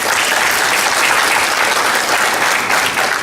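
A crowd applauds at a congressional district debate held at Chipola College, a loud, thick, continuous wash of many hands clapping at once, with no break for the whole stretch.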